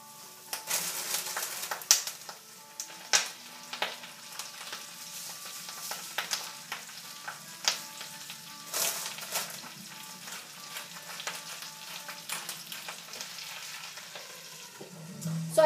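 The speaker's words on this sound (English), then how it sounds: "It's still kind of sizzling." Kale with garlic, salt and pepper sizzles gently in a pan, a low steady frying hiss broken by frequent small crackles and pops, fairly quiet and with no talking.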